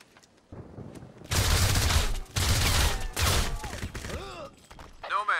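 Sustained automatic gunfire from the video game Crysis Remastered, several loud dense bursts of rapid shots separated by brief pauses, with the firing close and dominant.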